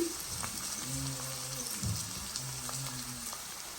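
Capsicum lemon rice ingredients fry in a pan, a faint, steady sizzle that carries on beneath a quiet backing tune.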